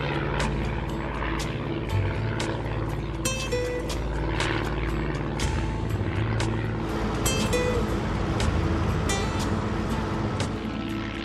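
A small propeller airplane in flight over the New Hampshire and Maine coast: steady, loud engine drone and propeller buzz heard from inside the cabin, continuous throughout with no speech.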